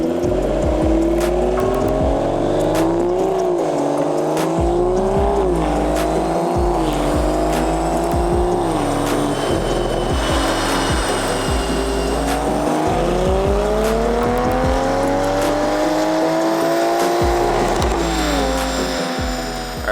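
A tuned BMW B58 engine roars loud and close on a dyno pull, its pitch climbing in several stepped sweeps that dip and rise again like gear changes, building to a sustained high-rev howl near the end with no talk.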